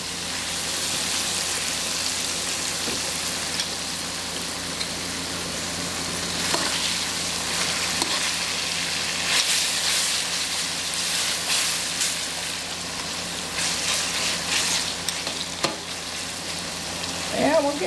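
Singapore rice noodles and pork stir-fried in a pan give a steady loud sizzle, with occasional scrapes and clatters as the food is tossed and moved.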